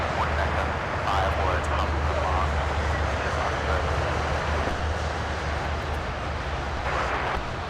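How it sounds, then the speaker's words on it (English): A Delta Boeing 757 airliner approaches LAX, its engines giving a continuous broad jet roar with a low rumble, steady and fairly close throughout under outdoor ambience. "this Delta 757 is, we'll take a closer look here as it makes its way towards us"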